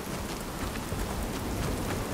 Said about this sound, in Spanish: Estoy a salvo en la exquisita lluvia.